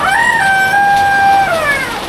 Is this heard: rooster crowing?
yes